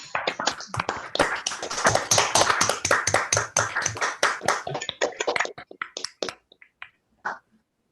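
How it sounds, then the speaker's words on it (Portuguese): Scattered clapping from a few participants in an online class, thrown over open microphones for Luiz Rafael, brisk and uneven at first, then thinning into isolated claps that fade out near the end. "a gente possa abrir o microfone e dar uma salva de palmas para o Luiz Rafael"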